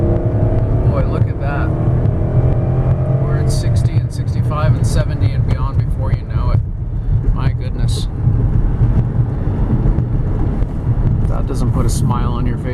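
A 2006 Dodge Charger R/T with a 5.7L Hemi V8 accelerating hard, its engine a loud, continuous low roar mixed with wind and road noise from inside the cabin while someone talks over it throughout.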